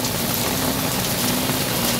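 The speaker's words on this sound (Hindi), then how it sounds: "बहुत तेज़, बर्फ़बारी हो रही है। ओले पड़ रहे हैं जी।" Heavy rain mixed with hail pounds down on a market in Lahore, a dense, loud and unbroken roar of impacts with no voices.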